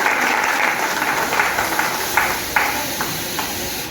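An audience at a gathering honoring Dr. Mahesh Sharma claps in sustained applause, a dense crackle of many hands with a few louder individual claps standing out.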